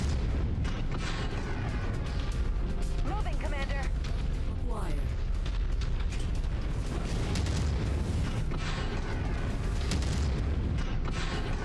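Weapon fire and explosions in the MechWarrior 5 video game, heavy booming blasts and bursts layered thickly over continuous battle noise, with a player talking over the action.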